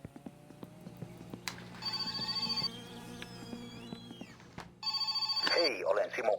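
A telephone rings in the driving game My Summer Car, with two bursts of bright, trilling electronic rings separated by a pause, standing out clearly over a low, steady background hum.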